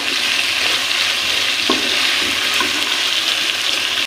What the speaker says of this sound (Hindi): अब हम सब्ज़ी को चिकन के साथ अच्छी तरह से इसको भूनेंगे।